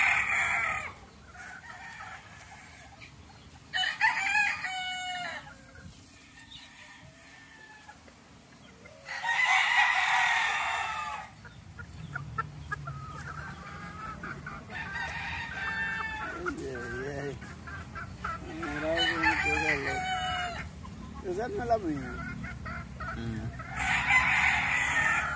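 Fighting roosters crow repeatedly, several long strained cock-a-doodle-doos spaced through the scene, with clucking and a low background murmur of people between the calls.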